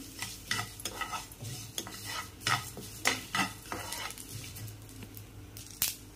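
Pumpkin seeds with sesame seeds dry-roasting in a pan for a spice powder, with repeated scraping and stirring strokes against the pan over a soft sizzle, close and without talk.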